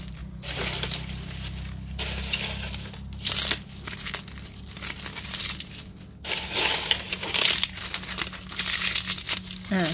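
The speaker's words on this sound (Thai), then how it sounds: "ฉีกไปเลยนะคะฉีกเป็นชิ้นเล็กๆ" Material being torn by hand into small pieces for a homemade potting soil mix, giving repeated rustling, crinkling rips in bursts with short pauses, close and moderately loud.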